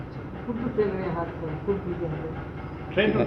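The Tinsukia–Lumding down passenger train rumbles along steadily with a faint rhythmic clatter of wheels, while someone speaks over the noise.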